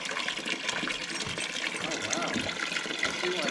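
Water running from a small ancient Roman spring well in Germany, a steady close splashing flow that fills the whole clip, with soft murmuring voices underneath.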